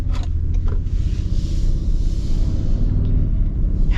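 A 2024 Toyota Tundra V6 driving, heard from inside the cabin as a steady low engine and road rumble with a faint whir, constant and close, with no speech.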